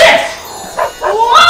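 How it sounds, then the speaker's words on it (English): A dog at an indoor kids' play center gives short yips and barks, mixed in with loud, excited talking nearby. "look at it. That's my dog, Lino."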